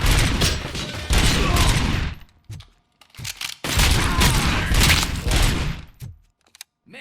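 Gunfire in the shooter game Robocop Rogue City rings out in two long, loud, sustained bursts of rapid shots, split by brief pauses and scattered single cracks.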